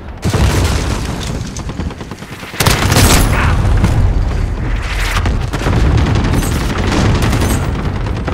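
Heavy booming explosions from a cluster strike in Call of Duty Warzone's Verdansk roll in a dense barrage, loud and continuous, with rumbling blasts layered over rapid crackling bursts and no voices.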